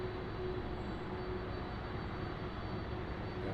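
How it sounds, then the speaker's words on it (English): At Munich Airport, a Delta Boeing 767-400 airliner taxiing makes a steady, moderately distant jet engine hum with a faint sustained whine, continuous and unbroken. "we should see the Delta 767 taxiing up here in just a couple of seconds"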